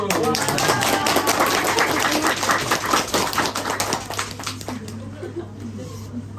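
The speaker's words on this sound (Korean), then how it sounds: "경례의 박수." A seminar audience at a year-end book-forum gathering claps together in a steady, dense patter that gradually thins and fades toward the end, with a voice talking over it.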